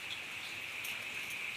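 Rain falls steadily after a heavy downpour, a soft continuous hiss from a distance with no voices.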